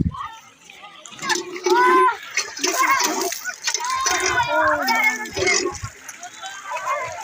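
Crowds bathing at the Kumbh Mela splash and slosh through water close by, with voices of adults and children talking and calling over the noise.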